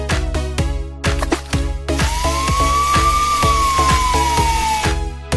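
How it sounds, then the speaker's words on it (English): A toy fire truck siren rises and falls in a single slow sweep over a looping rhythmic beat with regular percussive hits, moderately loud and close. "fire truck,"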